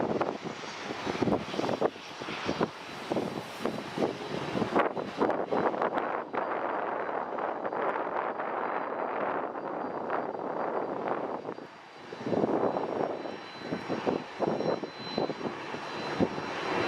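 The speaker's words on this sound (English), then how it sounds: "we got another takeoff, just like that." A jet airliner takes off at Dallas Love Field, its engine roar loud and sustained across the whole stretch with wind buffeting the microphone, the sound dipping briefly before swelling again.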